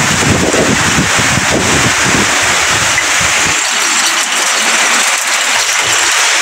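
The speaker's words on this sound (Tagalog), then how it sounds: "Ang lakas ng hangin mga idol." Strong typhoon wind roars continuously and loudly, buffeting the microphone with a dense, rushing noise that never lets up.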